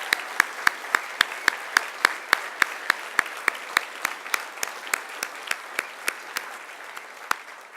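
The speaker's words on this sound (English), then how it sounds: "Can we have one more round of applause for David and Amy?" Regular, evenly spaced claps in a steady rhythm sound out through a room at the trustees' annual meeting as applause for David and Amy, each clap crisp and distinct, with a faint crowd murmur underneath.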